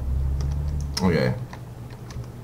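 Several quick key presses on a computer keyboard while steering a car in a driving game, soft clicks clustered together over a steady low hum.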